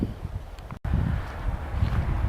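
Wind gusts buffet an outdoor microphone near a cheap Craigslist rally lawn mower, making low rumbling bursts and rustling, with a brief dropout partway through.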